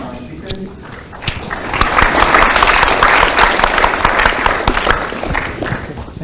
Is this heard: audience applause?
yes